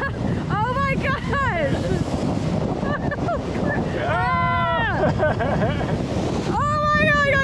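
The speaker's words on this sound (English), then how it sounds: "Those waves are like intense." Waves slosh and splash against a boat off a Thai beach town amid heavy wind noise, while excited voices shout and exclaim over the churning water.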